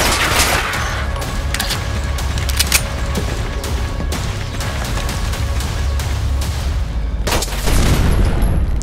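Automated turrets in Fallout 4 fire repeated loud, sharp bursts that rattle steadily for several seconds, punctuated by heavier thuds and mechanical clatter.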